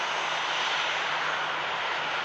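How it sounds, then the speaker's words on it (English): TUI Boeing Dreamliner jet rolling for takeoff, a steady, loud broadband engine roar held constant throughout without talk. "The earliest rotate we've seen from one of these TUI Dreamliners today."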